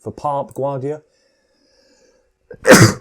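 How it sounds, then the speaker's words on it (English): A voice with a short pause, then one loud, sharp sneeze bursting out near the end. "I should have sneezed into it"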